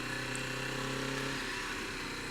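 A Kawasaki Z650 RS modern classic motorcycle engine runs close by as a steady, continuous drone, with no voices over it.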